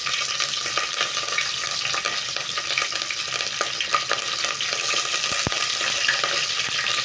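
Curry leaves sizzling as they fry in hot oil for a coconut upma, a steady bright crackle throughout at close range with a small sharp pop near the end.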